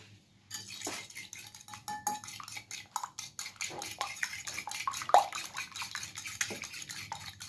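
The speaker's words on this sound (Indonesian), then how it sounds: "Telurnya udah bersih ya, habis dicuci. Kita kocok lepas." Rapid, irregular clicking of a utensil against a bowl as eggs are whisked, repeated strokes close up, with no talking.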